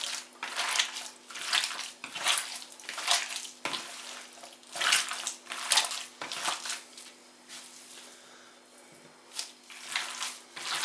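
Water being poured over pounded meat for homemade sausage makes a run of close, splashy, squelching bursts that come and go in uneven pulses against quiet gaps.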